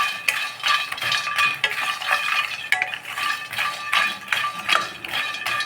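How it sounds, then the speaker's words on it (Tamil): Makhana (fox nuts) dry roasting in a pan, rhythmic scraping and rattling as a utensil pushes the nuts around the metal, repeated strokes in steady succession, close and clear with no talk. "ட்ரையாகவே ரோஸ்ட் பண்ணிக்கணும் ஒரு 2-3 நிமிஷம்."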